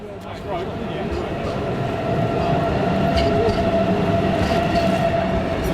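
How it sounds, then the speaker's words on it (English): Rumbling rail noise grows steadily louder as a train rolls into a station, with faint metallic clatter and squeal running through the steady roar. "Train's coming in just under a quarter of an hour"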